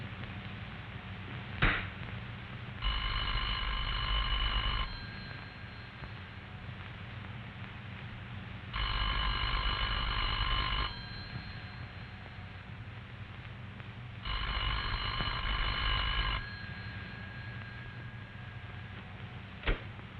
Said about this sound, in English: The party at this number will hear a clear, evenly spaced ring that sounds like this.